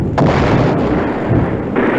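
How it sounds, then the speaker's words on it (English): Battle with grenades exploding and gunfire, a loud, dense and continuous barrage of booms and shots filling the whole stretch without a pause. "And each side's throwing grenades now."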